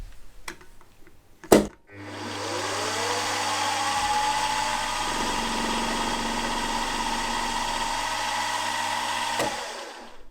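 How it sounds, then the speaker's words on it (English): A 23/64 drill bit bores out a hole for a bronze bearing in a lifter block for a model V-twin engine. The machine runs at a steady whine with a drifting tone, and a short clatter comes just before it starts. "now what I need to do is to drill a hole for the bearing, the bronze bearing"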